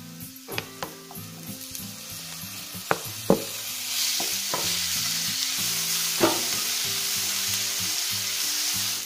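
Chopped tomatoes land in a hot pan of oil and spices for a cauliflower and soya chunk masala curry, sizzling steadily while a spoon scrapes and stirs with several sharp clanks against the pan, close and with no talk.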